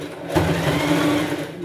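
Sewing machine backstitching along a satin side seam for a pet Cinderella costume, a steady close whirring run that starts abruptly and continues throughout, with a voice talking faintly over it.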